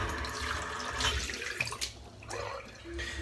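A soap tub is rinsed under a running kitchen tap, water splashing steadily into a sink nearby, with a few brief clinks and knocks of the tub as it is handled.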